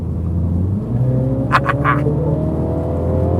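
A MINI John Cooper Works engine pulls hard under acceleration, a loud rising drone climbing in pitch with a brief burst of crackle partway through, no voices over it.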